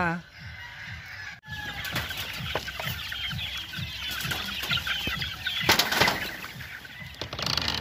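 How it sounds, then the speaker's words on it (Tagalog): Game fowl chicks on a farm raising fighting cocks, peeping in a steady, busy chorus with clucks and a flutter of wings, close and continuous throughout. "Sisiw na panabong po or chicks na panabong."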